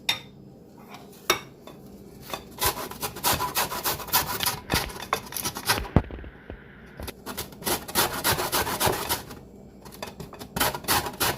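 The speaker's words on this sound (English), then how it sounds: "I have one lemon and I have one lime. I'm going to grate this. I want the zest." Lemon and lime being grated on a hand grater for carrot cake zest: a dense run of rough, scraping rasps in quick irregular strokes, close and fairly loud, with no talking.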